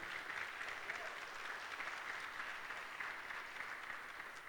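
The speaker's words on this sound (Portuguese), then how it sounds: "Você pode aplaudir Jesus por isso? Aplauda Ele, aleluia." A church congregation applauds during a Christmas sermon, a steady wash of many hands clapping together, quiet and somewhat distant, lasting a few seconds without a break.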